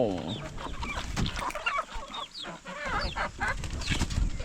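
Several chickens, a flock of close to 30 in an African village, cluck and chatter nearby in overlapping bursts, with sharper squawks mixed in among the steady murmuring.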